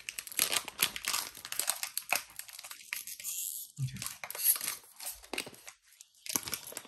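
Football trading-card box packaging being torn open and crinkled by hand, with bursts of crumpling and tearing close up, alone without talk.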